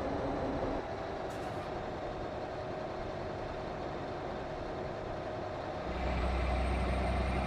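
A Mack R truck with its stock engine and transmission brakes in American Truck Simulator, giving a steady, loud mechanical drone that shifts into a deeper low rumble near the end.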